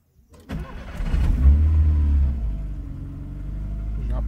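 Volkswagen Gol car engine starting after an engine wash: a short starter crank, then the motor catches with a deep rumbling surge that settles into a steady idle, close and fairly loud.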